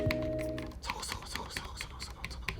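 Typing on a thin aluminum Cherry MX Board 10.0 RGB keyboard with Cherry red linear switches gives a run of soft, scratchy keystrokes in an irregular close rhythm, quiet and alone after a brief tonal sound at the start.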